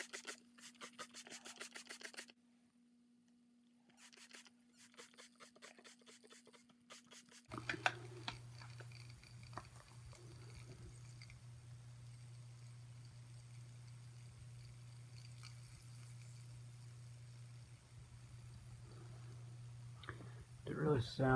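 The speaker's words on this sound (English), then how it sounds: "It really sounds as if the corona is forming under there." Corona discharge on a wet insulator: a steady electrical buzz and crackling hiss, continuous and fairly loud, with a low hum running underneath, after a brief stretch of sharp crackling bursts.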